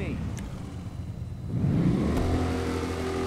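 A Dinka Verus quad in GTA Online with an upgraded exhaust revs up, its engine note climbing sharply and holding a loud, buzzing pitch after a quieter idle.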